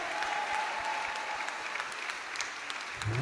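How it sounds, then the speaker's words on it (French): Congregation clapping hands at a lively church revival service in Martinique, a dense steady patter of many hands filling the room, fairly close and sustained throughout. "Somebody clap your hand to the Lord."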